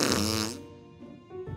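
A cartoon fart from an animated parody of the game Among Us: a loud, buzzy, descending blast that trails off into a softer sputter, then a short rough burst at the end, heard alone.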